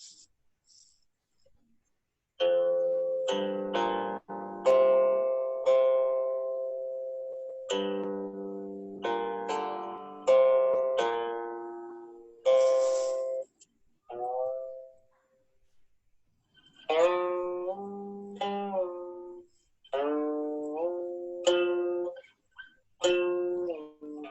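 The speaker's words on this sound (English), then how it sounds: "you have to put your finger on the string and move it" Plucked guqin notes ring out in irregular phrases, several tones bending and sliding in pitch as a finger slides along the string while they decay, with short pauses between groups.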